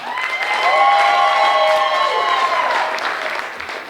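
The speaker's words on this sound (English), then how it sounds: "Clap it up if you think Sean Flannery should win." A comedy club audience claps and cheers loudly, with whoops and shouts riding over dense applause that builds and then slowly tapers off.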